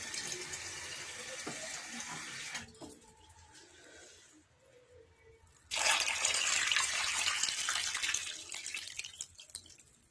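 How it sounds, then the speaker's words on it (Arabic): Water poured over lemons to preserve them, in a steady splashing stream that stops midway, leaves a quieter lull with a few drips, then resumes loudly and gradually tapers off. "دابا غندير له الماء"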